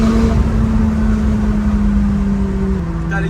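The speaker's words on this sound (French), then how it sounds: "Le V8 McLaren a la belle sonorité" A McLaren 570 GT with a stage 1 track setup and its V8 engine, heard from inside with the windows lowered, holding a loud, steady drone that shifts pitch slightly toward the end.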